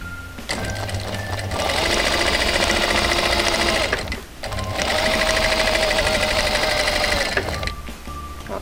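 A sewing machine stitches quilt seams guided by an oval ruler, running in two long, loud, steady bursts with a brief pause between them.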